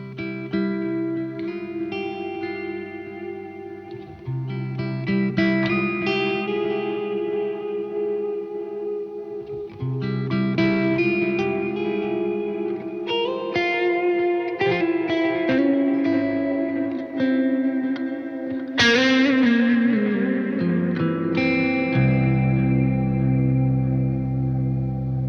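An electric guitar plays an ambient passage through compressor, reverb and delay pedals, soft sustained notes blooming into long washy echoes and overlapping tails, with a brighter swell near the end, alone and prominent.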